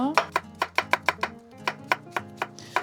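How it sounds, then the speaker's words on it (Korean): A knife slices cucumber thinly on a cutting board for cold seaweed and cucumber soup, giving about a dozen crisp, evenly spaced chops up close with no talking. "채칼이 있으신 분들은 채칼로 썰으셔도 돼요. 최대한 얇게 썰어주세요."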